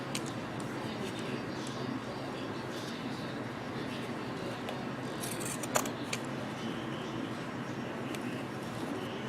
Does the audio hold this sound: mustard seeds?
no